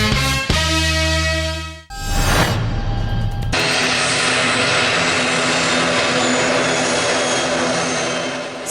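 A TruJet airplane at Salem airport during the airline's fourth-anniversary event gives a loud, continuous engine roar. Brief, different sounds come just before the roar, and no talking is heard.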